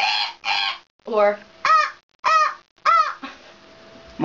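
A voice imitates a goose with a rapid run of about seven nasal honks, close and loud, each clipped short with brief gaps between.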